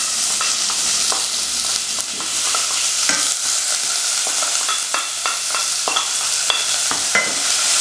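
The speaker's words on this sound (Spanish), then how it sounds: "una cazuelita a la cual le vamos a poner aceite de oliva y vamos a empezar echando la cebolla" Onion frying in olive oil in a small pot over a fairly high flame gives a steady, close sizzle for the whole stretch, with repeated scraping strokes from stirring and no talking.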